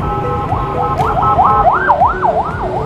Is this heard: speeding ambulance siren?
yes